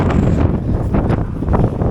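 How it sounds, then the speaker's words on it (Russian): Strong wind buffets the microphone in loud, low gusts, a heavy roaring rumble that swells and eases without pause, in Kyzylorda, Kazakhstan. "Единственное, что сегодня здесь плохо, это, очень сильный ветер, который всему наверняка очень сильно мешает."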